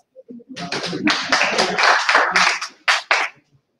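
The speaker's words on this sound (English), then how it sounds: "Please don't be tired to clap." A conference audience claps in short, uneven bursts, several separate rounds of hand claps close by, with brief gaps between them and a sharp pair of claps near the end.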